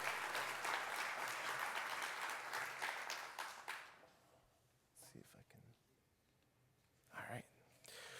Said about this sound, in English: A big round of applause for all of our sponsors.